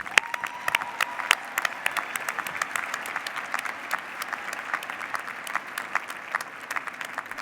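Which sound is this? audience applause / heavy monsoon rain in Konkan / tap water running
audience applause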